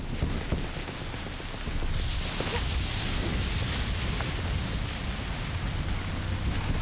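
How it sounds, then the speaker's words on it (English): Rain pours in Kena: Bridge of Spirits as a dense, steady hiss, with a low rumble and a brief whoosh partway through, with no talk over it. "Some rainy weather"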